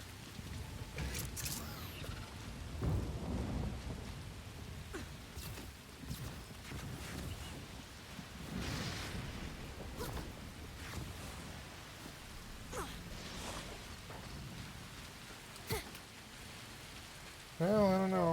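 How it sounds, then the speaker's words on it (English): Steady rainfall from a video game plays throughout, a continuous wash of falling rain with soft splashing, at moderate level with no talk over it. "I like the rain, looks good."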